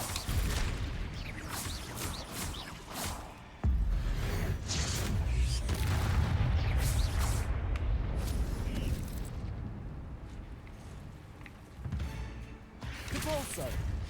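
Explosions from the Confringo spell in the Hogwarts Legacy video game go off repeatedly: loud booming blasts and crackling bursts in dense succession, with a person talking over the battle noise.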